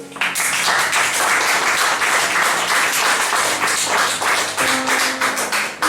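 A church congregation bursts into sustained, dense applause, many hands clapping together loudly and continuously, with faint voices mixed beneath.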